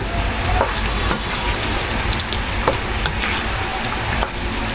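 Menudo frying in a pan and being stirred, a loud constant sizzle broken by scattered clinks and scrapes of the utensil against the pan, with no talking.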